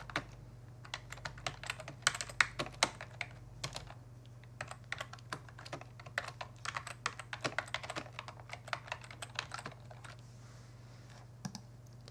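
Steady typing on a computer keyboard while filling in a Facebook profile, close crisp key clicks in quick irregular bursts with short pauses, over a low background hum.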